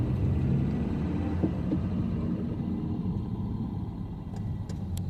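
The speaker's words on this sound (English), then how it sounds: "My serpentine belt's making that noise again." A steady low engine rumble and hum from a car with a noisy serpentine belt and tensioner, droning continuously with a faint throbbing texture.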